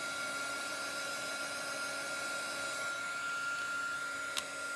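A hair dryer runs steadily and close while drying paint on wood, giving an even whirring blow throughout with one brief click near the end.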